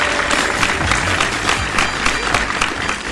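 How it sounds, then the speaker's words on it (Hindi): Audience applause at a Hindi comedic poetry recital: dense, steady clapping from a crowd fills the whole stretch at an even loudness, with no speech over it. "तालियां बजाओ"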